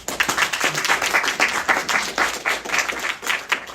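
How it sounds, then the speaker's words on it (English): Audience members clap to welcome a speaker at a presentation, a moderately sized group producing a lively patter of individual claps with rhythmic swells that continues throughout. "So let's give Ms. Lawson a clap, please."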